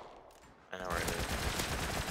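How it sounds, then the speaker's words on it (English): Gunfire in the survival video game Rust breaks out suddenly after a short quiet stretch, then keeps going as a dense, loud burst of shots with no pause until the end. "Shooting at me."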